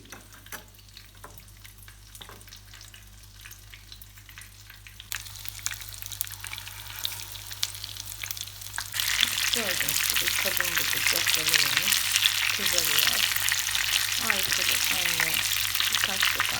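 Meatballs sizzle and crackle in a small pan, growing louder and more intense midway, with occasional stirring scrapes and a voice talking over the frying.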